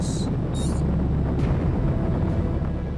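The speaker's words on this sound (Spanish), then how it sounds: "la ausencia de ruido de cohetes en las imágenes oficiales de la NASA. Ruido de cohetes." A rocket engine roars loudly and continuously, a dense low rumble with broad hissing texture throughout and no voices.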